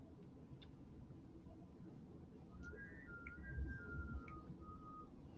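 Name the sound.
wind whistling through fireplace chimney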